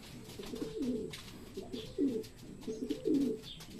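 Homing pigeons coo softly nearby, three or four low rolling calls in a slow rhythm over faint background noise.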